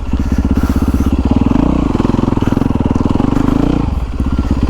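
A Yamaha YZ450FX 450cc four-stroke dirt bike runs loud and close with a steady, throbbing engine note that swells briefly twice as the throttle is worked while riding.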